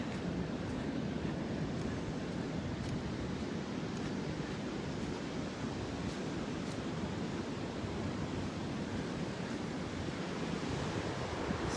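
Ocean surf at a beach in Torrey Pines, California: a constant, broad wash of breaking waves mixed with wind buffeting the microphone, steady and moderately loud, with no voices.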